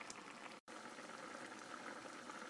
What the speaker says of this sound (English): It's boiling away.